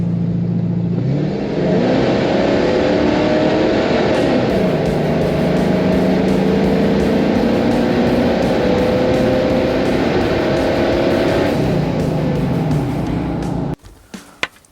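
A tuned Ford F-250 with a 5.4L engine accelerates hard from 30 to 60, its loud engine drone climbing in pitch through several gear shifts before cutting off abruptly near the end.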